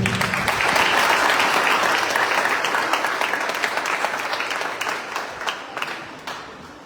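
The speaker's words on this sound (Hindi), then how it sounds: "जोरदार तालियों के बीच" Loud audience applause at a shooting competition ceremony held for a Samrat Prithviraj Chauhan anniversary, a dense burst of clapping that stays strong and then gradually thins into scattered claps as it fades.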